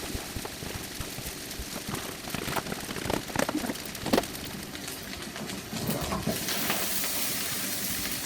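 Rice frying in a pan over high heat as a large batch is stirred and clumps broken up, a steady crackling sizzle with scraping and tossing bursts, no talking.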